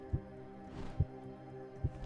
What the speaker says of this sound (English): It's like a little heartbeat sound.